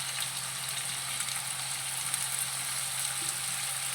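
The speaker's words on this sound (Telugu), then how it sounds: "ఇది బాగా ఫ్రై చేసుకోవాలండి." Tomato frying in a pan for a brinjal and peas curry, giving a steady, close, even sizzle with no talking over it.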